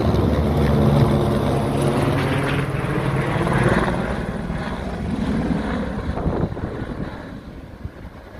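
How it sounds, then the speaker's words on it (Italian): Firefighting helicopter working over a wildfire near a resort, its rotor drone loud and steady, with a rhythmic chopping that swells and eases slightly as it passes. "L'elicottero è ancora in azione."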